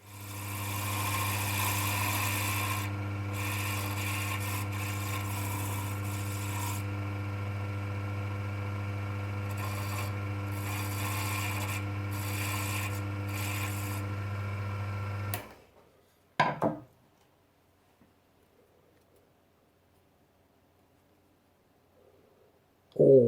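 A powered sander hums steadily for about fifteen seconds while a pearwood ring is sanded, its tone dipping briefly under load several times, then it stops, followed by a few clicks and near silence.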